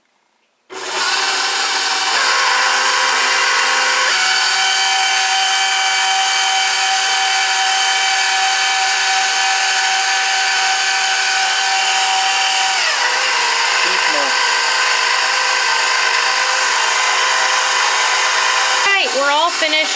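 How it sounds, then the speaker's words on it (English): An electric stand mixer runs steadily at close range, blending a dry orange spice tea mix with a constant loud motor whir that shifts slightly in pitch partway through and stops near the end. "I'm gonna stick this on the mixer."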